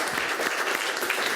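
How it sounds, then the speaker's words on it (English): A brief burst of dense clapping from a gathered group, a round of applause heard close and fairly loud, alone without talk. "Let's hear a round of applause for this guy"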